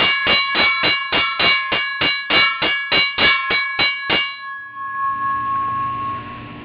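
An old metal wagon wheel is struck about fourteen times in a quick, steady rhythm, each hit giving a bright, high-pitched, bell-like clang, before the strikes stop and a soft ringing tail fades out.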